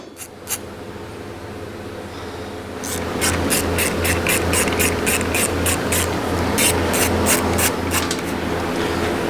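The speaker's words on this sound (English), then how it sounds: "You got to take this nut off and this bolt out." A nut and bolt are worked off a dirt bike's front disc guard with a tool, giving a run of rhythmic ratcheting clicks close by over a faint background hum.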